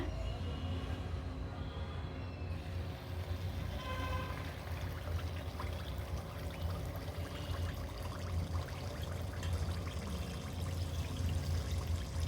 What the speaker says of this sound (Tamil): அப்பம் பொரிக்கிறதுக்கு எண்ணெய் சூடாயிடுச்சுங்க.